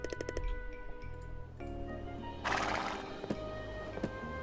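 Horse whinnies and neighs in the game My Time at Portia, with a quick series of bright calls, then a louder burst and clip-clop hoof sounds, fairly close and clear without speech.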